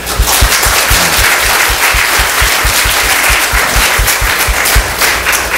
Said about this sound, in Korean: 제가 또 한번 큰 박수로 환영해 드리도록 하겠습니다